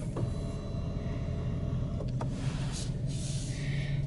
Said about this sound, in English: It has electronic control, and it tilts up and down, as well as it's a telescoper too.